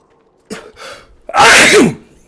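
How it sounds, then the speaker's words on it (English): A character in a fantasy game sneezes: two short nasal intakes, then one loud, close, explosive sneeze that trails off, with no talking. "I can't stop sneezing."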